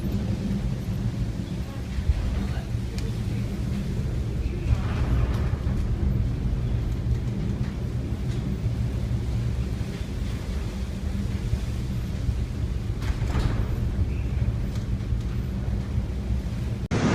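A 3,400-ton ship ploughs through a storm in the North Sea, with a steady roar of wind and heavy weather and low rumbling surges of sea and hull, loud and continuous throughout.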